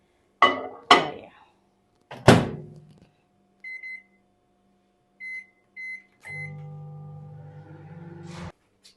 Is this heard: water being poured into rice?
no